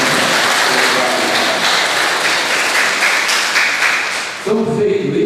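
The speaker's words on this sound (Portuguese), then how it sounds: "palmas" Church congregation clapping during a Catholic celebration in Paraí, Brazil, a dense steady wash of applause lasting about four seconds before it cuts off and a voice begins to speak.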